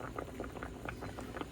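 Potatoes boil in a pot of water for a Kenyan goat soup dish, a steady close bubbling and popping patter with no talk over it.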